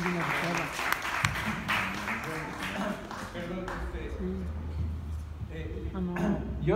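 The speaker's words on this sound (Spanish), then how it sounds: "Vamos a darle un aplauso y vamos a recibirla." Audience applause welcoming a speaker at a public talk on Cuba, moderately loud and steady for several seconds, with voices speaking over and around it.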